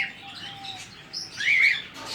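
A cockatiel hen chirps and tweets in short bright calls close by, with a brief burst of sharper squawky notes midway, and no talking.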